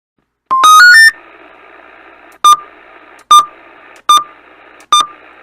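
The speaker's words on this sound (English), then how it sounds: "we will have our beep function" A CB radio's beep function: a rapid run of rising electronic beeps, then four short sharp beeps spaced about a second apart, with a steady hiss of radio static between them.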